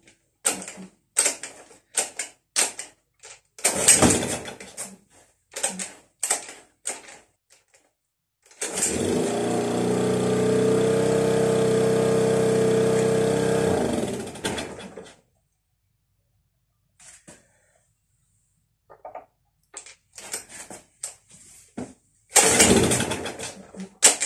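Cold start of an old Kawasaki GD700 generator with no choke or priming: a series of short, sharp pull-start attempts, then the engine catches and runs steadily for about six seconds before cutting out, followed by more pull attempts and rattles.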